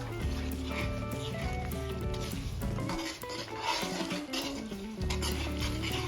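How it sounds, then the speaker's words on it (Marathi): Chicken pieces and spices being stirred in a hot pan on low flame for a chicken fry, with steady scraping and sizzling plus occasional utensil clinks, continuous and close. "आता आपल्याला हे सर्व साहित्य छान मिक्स करून घ्यायचं आहे"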